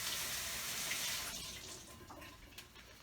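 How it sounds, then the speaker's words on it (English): A large beefsteak tomato being rinsed under a running kitchen tap, giving a faint hissing stream of water that softens halfway through, with a few light splashes and no talk. "Just going to give it a quick rinse."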